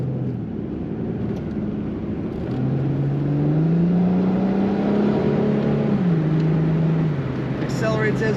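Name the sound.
2007 Ford Mustang convertible accelerating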